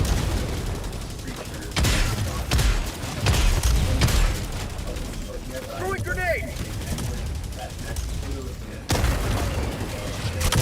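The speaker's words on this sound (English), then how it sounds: "Throwing grenade!" A grenade detonates amid combat in Helldivers II, adding to a busy mix of repeated gunshots and booming blasts spread over several seconds, with a voice talking over the action.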